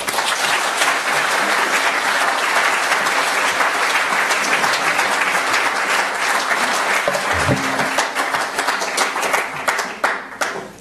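Sustained applause from a book-talk audience at Ford's Theatre welcoming author Fergus Bordewich: steady, dense clapping across the whole stretch, fairly close and loud, starting to thin and taper toward the end.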